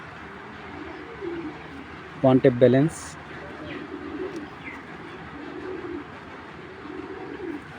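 Racing pigeons, a red checker pair, cooing softly in the background with one loud, close burst of cooing partway through, while someone talks over them.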